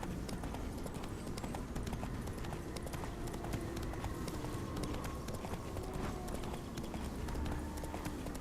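Geralt's horse gallops in The Witcher 3: Wild Hunt, its hooves beating in a steady, fast clip-clop rhythm that runs through the whole stretch, close and prominent, with faint traces of voice beneath.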